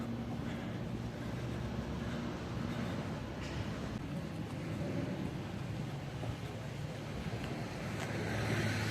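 Strong wind buffets the microphone beside the Mediterranean Sea in Marseille, a continuous low roar with rolling wave wash and faint distant city noise, with no one speaking.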